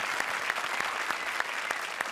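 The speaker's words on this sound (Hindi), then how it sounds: "जोरदार तालियां for our finalist जोड़ी" An audience applauds a finalist pair on a comedy show stage, steady even clapping from a sizable crowd with a few sharper individual claps standing out.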